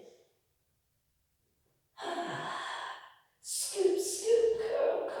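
A person breathes in audibly during a reformer Pilates exercise, with one long airy inhale and then a second breathy, effortful breath, close and alone in a quiet room.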